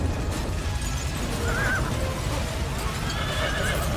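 A horse gives a short whinny partway through, over a steady background hum and faint hoof sounds.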